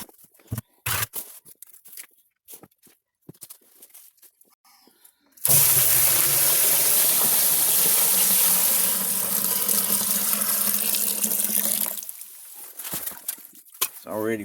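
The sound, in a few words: water seeping into and filling a dug hole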